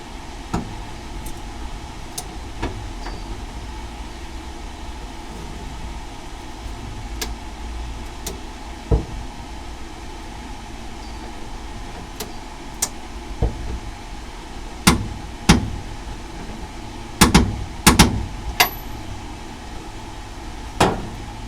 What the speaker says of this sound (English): I'm torquing up the upper bolt on these QA1 single adjustable shocks.